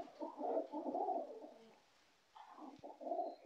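A pigeon coos softly in low, rolling phrases, pausing briefly before cooing again nearby.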